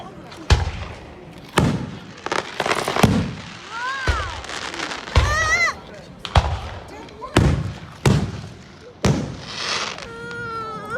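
Fireworks bursting at a Niagara Active Hose Co display, with repeated loud booming explosions every second or so, some followed by rising whistles and crackling, while spectators talk between the blasts.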